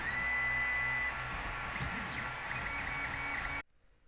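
A 3D printer at work during a live demonstration, its stepper motors humming and whining in steady tones with a sweeping pitch glide midway, close and continuous until it stops abruptly near the end.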